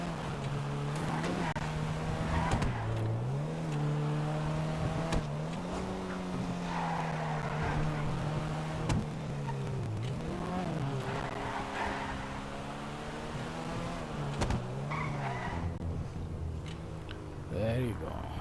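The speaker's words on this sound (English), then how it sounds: "First you need to run the engine, then you can drive." Car engine idling and revving while driving in GTA 5, a steady droning hum that rises and falls in pitch across the clip, with occasional skids, under a voice talking throughout.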